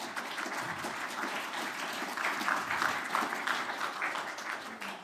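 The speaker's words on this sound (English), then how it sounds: "Quick round of applause," Audience applause closing a panel session on corporate venture funding, an even, moderately loud patter of many hands lasting about five seconds with no talk over it.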